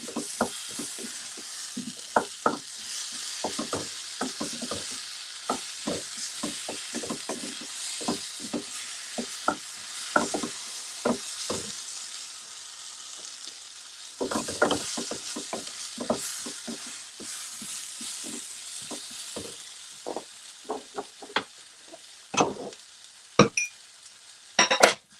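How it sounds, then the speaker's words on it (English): Potatoes coated in curry paste sizzle steadily in a pan at a cooking demo, with frequent sharp clinks and scrapes of a utensil stirring them throughout. "So I'm going to cook the potatoes first."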